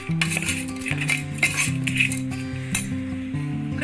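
Spoon mixing ground sugar and cardamom in a metal bowl, giving repeated light clinks and scrapes of metal on metal at an even pace, close, with a steady background hum and no talk.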